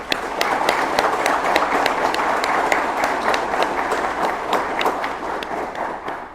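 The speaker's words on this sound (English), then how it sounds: "Please join me in giving the award recipients a round of applause." An audience applauds award recipients at a Border Patrol Academy graduation ceremony, steady dense clapping with some sharper individual claps standing out, continuous from start to finish.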